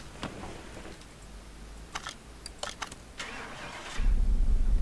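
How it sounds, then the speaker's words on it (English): An engine cranks and starts up in Car Mechanic Simulator 2018, the car fitted with a freshly installed fuel pump; a short whirring crank with a few clicks settles into a steady, loud idle hum near the end. "Okay, that car does start pretty fast."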